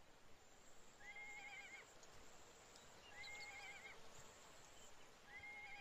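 A donkey mount in the ArcheAge online game whinnies three times in repeated, evenly spaced calls over a steady bed of clip-clopping hooves and background game ambience.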